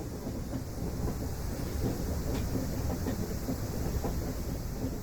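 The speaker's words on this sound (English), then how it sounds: "The first engine hisses away to the sheds" A steam locomotive engine on a Victorian sleeper train at night, hissing steadily as it moves off toward the sheds, a broad continuous rumbling roar with no speech.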